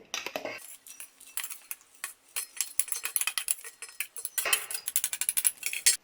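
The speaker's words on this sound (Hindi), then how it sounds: "अब इसे एक बोल में ट्रांसफ़र कर लेंगे।" Rapid metallic scraping and clinking of a spoon against a bowl as cooked dry urad dal is transferred, repeated in quick bursts.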